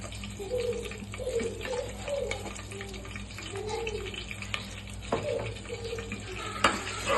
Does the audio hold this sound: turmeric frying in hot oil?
yes